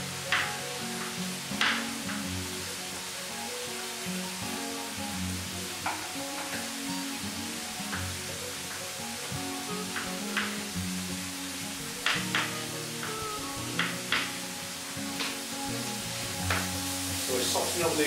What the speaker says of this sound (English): So we're softening up the onions